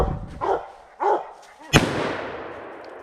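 A single semi-automatic gunshot fired at a squirrel nest during a January squirrel hunt: one sharp, loud crack with a lingering outdoor decay, after a few brief voices or dog-like sounds.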